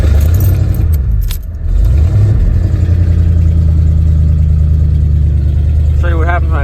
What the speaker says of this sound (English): I'm gonna go ahead and start it up, and we'll kind of let everything run.